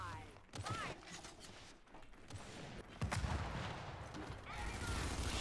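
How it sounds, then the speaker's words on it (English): Gunfire in the video game Gears 5 during a ranked match, several sharp bursts and single shots spread across the stretch, with a heavy crack near the middle, mixed with background game noise and some talking. "Shots."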